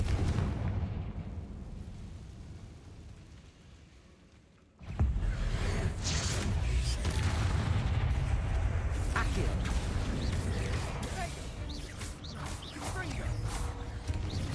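Confringo fire spell cast in the Hogwarts Legacy video game, a sudden loud blast that cuts in after a quiet stretch and rolls on as a dense, crackling roar of game effects with faint voice beneath.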